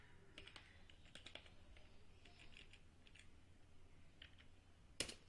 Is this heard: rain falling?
no